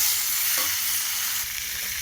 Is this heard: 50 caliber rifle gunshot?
no